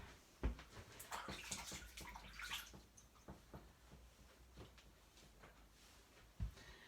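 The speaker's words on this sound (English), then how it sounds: "Give my hands another wash." Hands rinsed under a running tap in a home kitchen, a quiet stream of water with splashes and a couple of bumps near the start and end.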